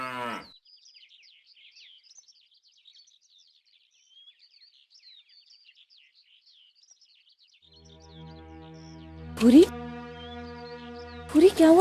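A cow gives a short, low moo at the very start, followed by quiet bird chirps, before a person begins talking close by.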